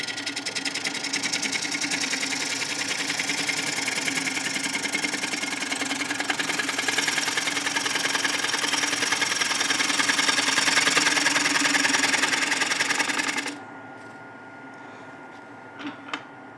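A wood lathe spins steadily while a bowl is turned, a loud continuous rattling mechanical whir with a rapid buzzing pulse that stops abruptly near the end, followed by quiet and a couple of faint knocks.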